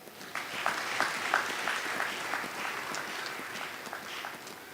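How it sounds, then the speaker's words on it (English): An audience at the Sugar Corporation of Uganda centenary celebration claps for a long-serving manager, a loose patter of many hands that starts abruptly and carries on evenly, with individual claps standing out near the front. "So clap for him."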